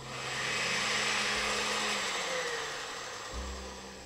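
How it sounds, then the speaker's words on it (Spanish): A kitchen blender whirs steadily as it blends a single cracked egg on its own for homemade mayonnaise, a continuous close motor drone that shifts pitch slightly near the end. "cascamos el huevo dentro de la licuadora y ponemos el huevo solo a licuar durante un minuto"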